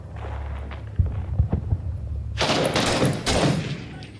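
Gunfire in the video game Iraq '04 Simulator: scattered shots, then a loud, dense burst of automatic fire that keeps going to the end.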